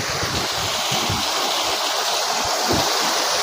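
A Darjeeling waterfall stream pours in a steady, loud, broadband rush of water, close by and continuous, with no voices.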